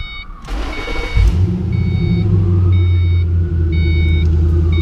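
A cold car engine cranks and fires up with a sudden deep exhaust burst, then settles into a loud, throaty idle while faint repeated beeps sound in the background.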